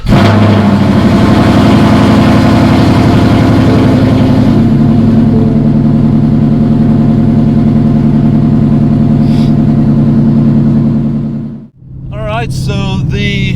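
Coyote V8 in a 2016 Ford Mustang GT running after a cold start outdoors in cold weather, a loud, steady high idle that gradually settles, then briefly dips as someone begins speaking over the rumble.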